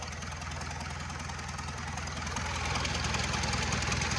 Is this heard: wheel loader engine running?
yes